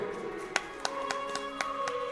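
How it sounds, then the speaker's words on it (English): Scattered hand claps from a small audience at a live Ram Katha religious gathering in Leicester, UK, a few sharp isolated claps spaced irregularly over a steady background hum. "only few people are clapping"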